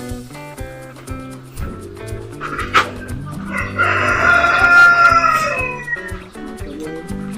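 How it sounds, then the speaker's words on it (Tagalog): On a farm with Rhode Island chickens, a rooster crows loudly and close in the middle, surrounded by steady clucking and scattered calls from the flock. "Daming manok guys."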